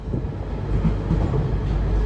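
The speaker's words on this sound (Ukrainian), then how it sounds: "Зараз на метро їдемо до Кандем Маркету." A London Underground metro train rides along, with a steady low rumble and soft rattling of the carriage, heard from inside.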